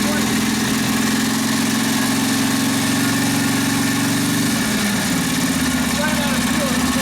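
A 1942 Harley-Davidson WLA 45ci flathead sidevalve engine runs after a rebuild and tune-up. It idles close and loud with a steady low throb, and the rhythm shifts and roughens after about four and a half seconds.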